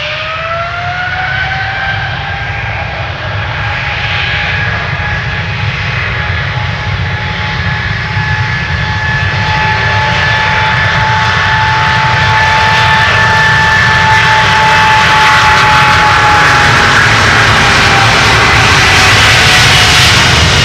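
A 20-year-old KLM Boeing 777-200 jet takes off from Schiphol's Polderbaan runway, a loud, sustained, up-close engine roar with whining tonal hums that stays heavy and steady throughout.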